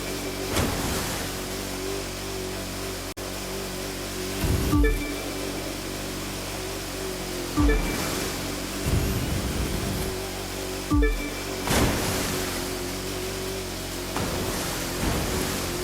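Jet sprint boats racing on water in the video game The Crew 2, a steady roaring engine and spray wash broken by several loud whooshing surges as boats pass close.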